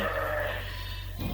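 Ewe lambs in a keeper group bleat indoors in a barn on a Canadian sheep farm, a steady layered chorus of calls close by, with a louder bleat rising right at the end.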